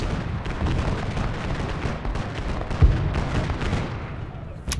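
Soldiers in the Ultimate General: Gettysburg video game fire in a dense rumbling battle din of distant musketry and booms, with one sharper close report standing out.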